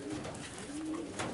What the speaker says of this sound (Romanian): Porumbelul